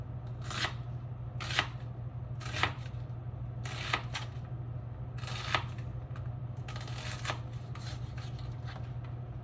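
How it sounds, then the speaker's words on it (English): Kitchen knife slicing an onion on a cutting board, about a dozen crisp chops at an even pace, close and distinct over a steady low hum. "And then you have your onion. We like to cut ours in slices."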